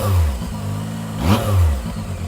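A Zontes 703F motorcycle engine revs up sharply with a blip of the throttle, its deep tone rising and falling between steadier running, loud and close to the microphone.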